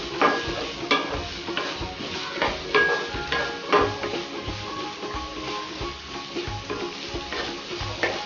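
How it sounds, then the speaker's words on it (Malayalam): Egg filling with chopped ingredients stirred in a frying pan, a utensil scraping and clinking in an irregular rhythm over a steady close sizzle, with no talking. "ചെറുതായിട്ട് ഇളക്കി കൊടുക്കാം."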